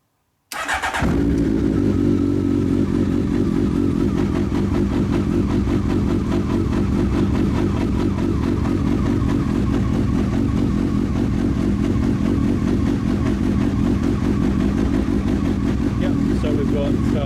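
A Honda CBR1100XX Super Blackbird motorcycle fires up and settles into a steady, loud, close idle that runs unbroken for over fifteen seconds, with a dense low engine rumble throughout.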